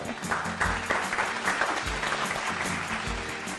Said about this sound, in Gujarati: જોરદાર તાળીઓ થઈ જાય મૈત્રી ભાનુશાલી માટે.